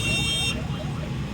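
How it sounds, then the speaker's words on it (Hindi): A vehicle horn sounds briefly at the start amid a traffic jam with trucks and buses, then gives way to a low, steady rumble of idling road traffic. "ये एक आवाज़ आ रही होगी हॉर्न की"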